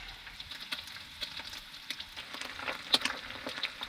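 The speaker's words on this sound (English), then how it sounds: "listen to that sizzle" Breakfast sizzles in a pan on a riverside campsite, a steady crackling hiss with scattered sharp pops and spits running throughout, close and fairly quiet, with no talk over it.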